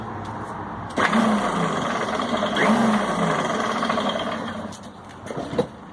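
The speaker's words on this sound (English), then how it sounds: "there's something catching here that's rattling around inside, and I don't know what it is" A faulty Lidl lawn mower engine fires up abruptly and runs with an uneven, clattering rattle from something loose inside, holding fairly loud and close before easing off near the end with a final sharp knock.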